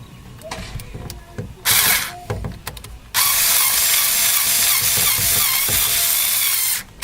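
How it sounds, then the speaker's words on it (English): A power drill drives screws to mount a replacement tweeter in a DIY speaker repair, heard as two loud sustained whirring bursts, one short and one several seconds long, with quieter handling clatter between them. "just ran the screws in and wrapped those around the screws to secure it"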